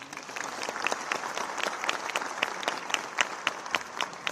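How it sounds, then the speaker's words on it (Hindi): An audience at a National Youth Day event applauds the Chief Minister, dense hand clapping with sharp individual claps growing louder and more pronounced toward the end. "और एक बार जोरदार तालियां माननीय मुख्यमंत्री जी के लिए।"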